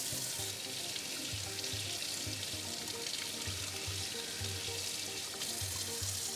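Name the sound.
tap water running over splint resin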